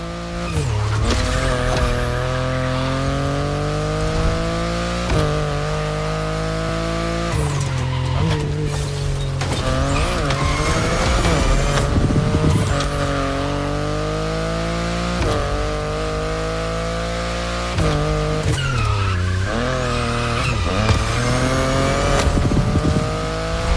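A BMW i8 hybrid sports car is driven hard in the racing game The Crew Motorfest, its engine revving continuously through repeated gear shifts with tire squeals, loud and close for the whole stretch.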